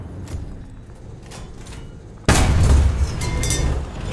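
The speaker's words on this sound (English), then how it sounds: "Shooting a dead tank." Following quiet rumbling and faint distant pops, a tank gun in War Thunder fires at an already destroyed tank with one sudden loud boom, its rumble lingering and tapering off.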